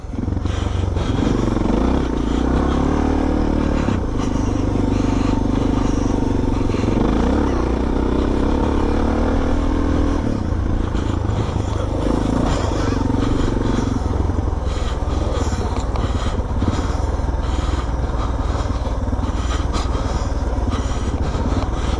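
A DRZ400 or DR650 dirt bike engine pulls hard and steady in second gear on Tolleys Track, Neerim East, loud and close, with clattering and scraping from the rough ride throughout.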